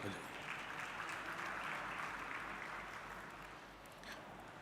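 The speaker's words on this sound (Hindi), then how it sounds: "आप लोग एक बार तालियां मेरी तरफ से" Audience applause at an institute lecture event, a steady dense wash of clapping lasting throughout and tapering slightly near the end, fairly distant in a large hall.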